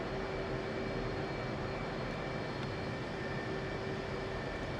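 Jet aircraft engine spooling up in the DCS World flight game, a steady, even turbine whine and roar holding at a constant level with a thin tonal hum, no talking.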